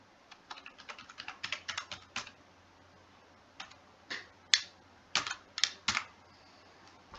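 Someone types a password on a computer keyboard: a fast run of light clicking keystrokes, a short pause, then a few spaced, sharper key presses, close and quiet with no one talking.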